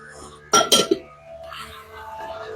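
Pieces of chili biltong are stirred through a pan of nacho toppings, giving a short cluster of loud metallic clinks and scrapes up close. A faint sizzle follows.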